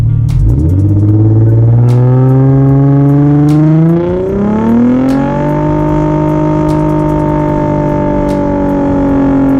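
Car with a tuned Nissan VQ engine revving hard as it spins its tires in a burnout: a loud, sustained engine roar climbing in pitch, then holding high and steady, with faint ticking clatter over it and no talking.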